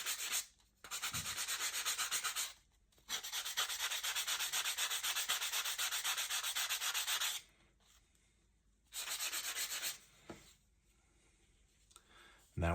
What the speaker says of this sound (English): put a little sand on the top